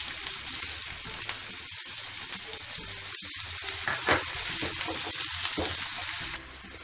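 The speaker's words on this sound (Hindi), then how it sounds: "प्याज को 1 मिनट ही फ्राई करेंगे" Onions and cumin seeds frying in two tablespoons of hot oil in a pan, a steady close sizzle with crackling pops and occasional stirring scrapes throughout, no voices.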